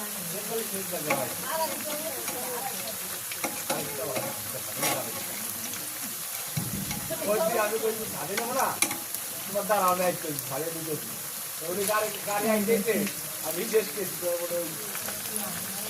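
Taro stems frying in a pan with ground peanut paste, a steady sizzle under a woman's speech, broken by scraping stirs and flips of the pieces.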